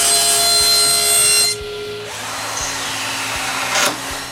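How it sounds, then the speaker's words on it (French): A power tool cuts plexiglass for a wooden ski-doo case project. A loud steady whine and rasp cuts off sharply partway through, then a lower rough grinding follows, close and continuous. "Pour finir, je coupe du plexiglas pour les cartes."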